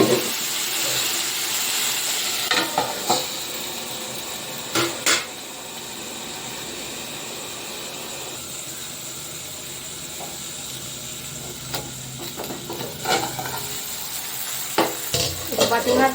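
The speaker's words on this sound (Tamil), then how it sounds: "தக்காளி நல்லா வதங்கட்டும்." Chopped tomatoes sizzle steadily in a hot pan for a spicy chicken gravy, with a spatula scraping and clinking against the metal at irregular moments; loud, close hissing fills the whole stretch with no talk.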